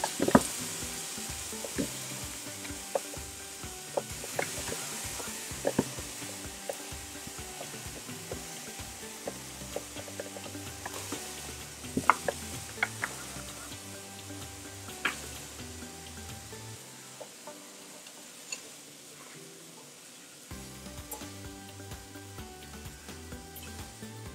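Banana caramelizes in a frying pan as part of a banana cake recipe, giving a steady close sizzle with occasional spatula scrapes and stirring knocks, briefly quieting near the end before sizzling again.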